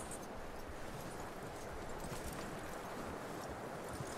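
Horse hooves clop steadily in the video game Red Dead Redemption 2, a continuous muffled rhythm of hoofbeats under a constant wash of ambient game noise.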